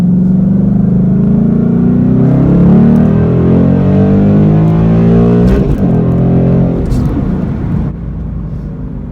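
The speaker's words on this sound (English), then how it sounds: "I absolutely love the active exhaust" A 2018 Ford GT engine rumbles and revs through its active exhaust with a deep, throaty note, loud and close, easing off slightly near the end.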